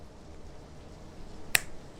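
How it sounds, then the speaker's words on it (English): A single crisp finger snap in the air, sharp and close, cutting through an otherwise quiet room. "Focus, I say, snapping my fingers in the air."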